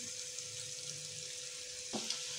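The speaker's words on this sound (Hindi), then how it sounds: "अब हम लोग पकौड़े डाल लेंगे पैन के अंदर और मीडियम टू लो आँच" Chicken and cauliflower pakoras fry in hot oil in a pan over medium-low heat, giving a soft, steady hiss with a brief clatter near the end.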